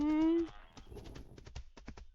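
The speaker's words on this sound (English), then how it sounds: "Then I just heard a cow noise." A cow in the farming game Fields of Mistria gives a short, steady moo at the start, followed by clopping hoof-like footsteps and other soft game sounds.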